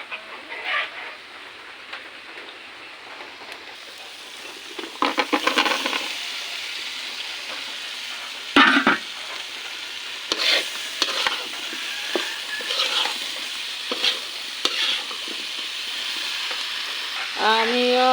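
Pangas fish fries in a pan, seasoned with turmeric powder and salt, giving a steady sizzle broken by louder clattering stirs and scrapes of the utensil.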